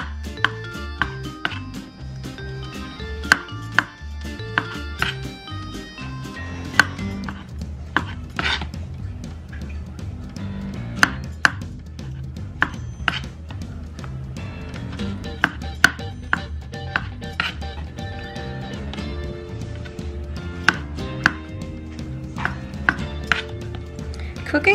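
Olives chopped with a knife on a board in a home kitchen while making ground beef enchiladas, producing a long run of sharp, irregular close knocks and clicks with occasional clinks of dishes, no talk.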